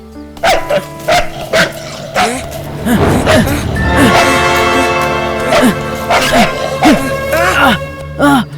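A dog in a film scene barks in sharp bursts and breaks into high yelps and whimpers over several seconds, close and loud, while people talk and shout around it.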